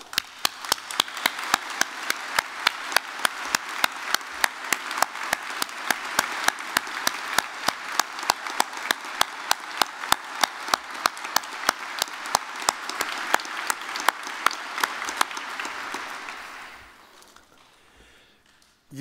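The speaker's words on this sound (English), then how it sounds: "Let us pay tribute to the people of Ukraine with a round of applause for their bravery." A graduation ceremony audience in Belfast gives sustained applause, many hands clapping steadily and densely for about fifteen seconds before tapering off into quiet.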